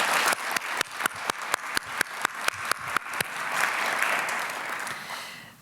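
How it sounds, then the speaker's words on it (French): An audience at a morning roundtable opening on Black health claps: a run of evenly spaced, separate claps first, then a dense wash of many hands applauding together. Nobody speaks over it. "Est-ce qu'on peut les applaudir encore une fois ce matin?"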